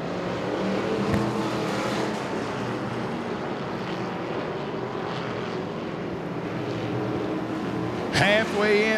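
Buick race cars roar around the Senoia Raceway dirt track during a race, a steady broad engine rumble filling the whole stretch with a brief sharper burst near the end.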